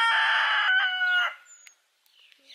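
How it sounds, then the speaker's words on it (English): An old rooster crows once, loud and close, a strained drawn-out call trailing off into a faint quiet yard. "Oh, that is one old rooster, this guy."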